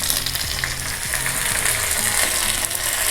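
Mustard seeds, dried red chillies, curry leaves and fenugreek temper in hot coconut oil for pineapple pachadi, giving a steady close sizzle full of rapid crackling pops.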